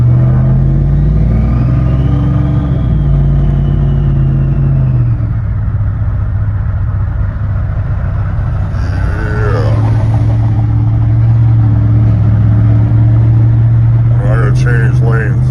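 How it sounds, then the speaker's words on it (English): Truck fitted with a fake diesel engine sound, driving with a loud steady low drone inside the cab, engine note rising and falling through the run, with voices talking over it. "It's a fake diesel."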